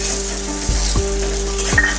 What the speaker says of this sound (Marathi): आता ही कापून घेतलेली आपल्याला भेंडी टाकायची आहे